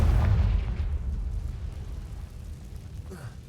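A Confringo fire spell explodes in Hogwarts Legacy, a loud close boom at the start with a low rumble that fades over the next few seconds.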